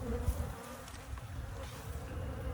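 Honeybees hum in a steady, close buzz around a backyard beehive being inspected, with no talking.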